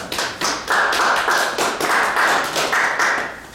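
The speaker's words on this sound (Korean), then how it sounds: "저는 여러분들에게 박수를 보내드리고 싶습니다" Brisk, evenly spaced clapping repeats loudly and close for a few seconds, each clap a sharp percussive burst in a steady rhythm.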